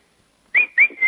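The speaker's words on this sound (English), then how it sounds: "Yes, girls, I can whistle a happy tune." A person whistling a short tune, three clear bright notes in quick succession, close and loud after near silence.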